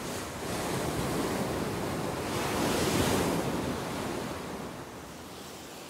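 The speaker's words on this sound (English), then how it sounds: "so wild and windy, with these crashing waves all around" Waves crash steadily on a wild, windy clifftop at an ancient settlement in an island archipelago, with broad continuous surf roar and gusting wind buffeting the microphone, loud and unbroken with no voices.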